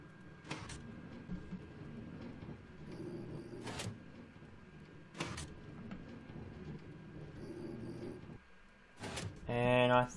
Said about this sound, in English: I think that's all the trains returning in now.